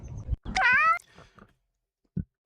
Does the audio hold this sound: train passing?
no